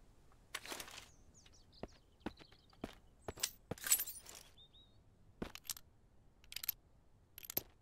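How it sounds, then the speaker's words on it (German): Footsteps outside in the survival game MistSurvival: a scattered series of sharp, distinct steps with uneven spacing, moderately near, heard alone against a quiet background. "Ich habe Schritte gehört, Leute."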